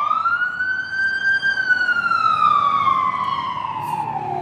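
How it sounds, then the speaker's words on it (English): An ambulance siren sweeps past, one long loud rising-then-falling wail that stays steady and clear with traffic rumble beneath, heard alone without talk. "Let me let this ambulance thing pass by."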